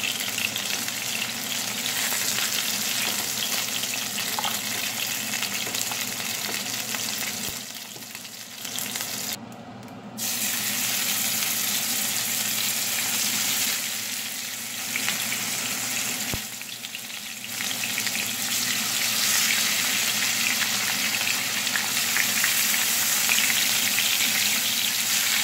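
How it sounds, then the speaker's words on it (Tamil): Fish fries in a pan with a steady, dense sizzle for about 25 seconds, briefly dipping a few times and then returning at full intensity, with no talking, while cooking Kerala-style fish molly. "நான் மீனை பொறிச்சு எடுத்துட்டேன்"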